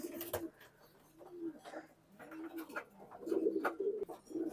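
Pedigreed black racing pigeons, a running pair, cooing in soft repeated low murmurs close by, with brief rustles and faint background noise between calls.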